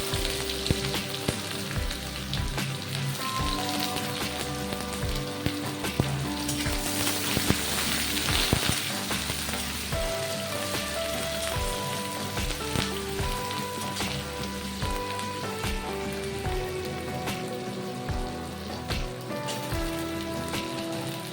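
Sliced onions hissing and crackling in hot oil alongside a bay leaf and a dried red chili, a dense continuous sizzle heard close up for a long stretch, with a few faint knocks of utensils and no talking.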